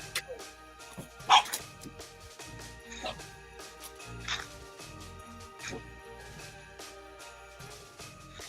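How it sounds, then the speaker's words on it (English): A pet dog barks and yips in short, scattered bursts indoors, mixed with faint whimpers, with one louder yelp near the start and quieter barks continuing over a background hum. "I know she's barking."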